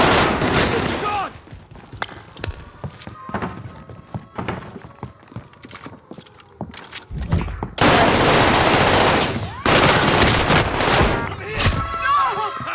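Gunfire in a battle royale video game: scattered single shots and rapid bursts crack through the first half, then a dense, loud barrage fills the last five seconds, with brief voice chatter mixed in.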